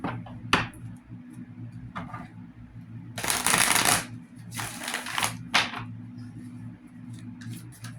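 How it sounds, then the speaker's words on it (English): Tarot cards being shuffled by hand in several separate bursts of papery riffling and flicking, the longest near the middle, with a steady low hum underneath and no talking. "So let's shuffle."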